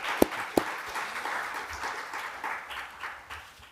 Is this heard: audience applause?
yes